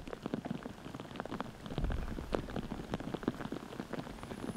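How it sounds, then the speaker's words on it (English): Steady rain falls through trees on a disc golf course at the Myrtle Beach Open, a dense patter of close drops hitting surfaces, continuous and fairly soft, with no talking. "you can even hear the rain coming down now"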